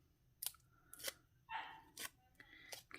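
Nonstick scissors snipping paper scraps in a crafting session, several close, crisp cuts spaced irregularly over a quiet background.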